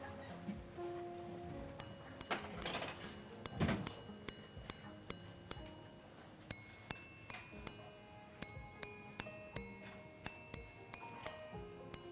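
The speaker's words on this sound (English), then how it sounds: "So we will set it to a good time to have it chime." A Jaeger-LeCoultre chiming watch strikes the time in a quiet room, with a run of clear metallic tones spaced at a steady rhythm, faint and close.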